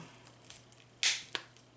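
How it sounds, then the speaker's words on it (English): Scissors snip through thick plastic: one loud crunching cut, then a sharper shorter snip, with faint handling clicks in a quiet room. "And use an old pair of scissors for this."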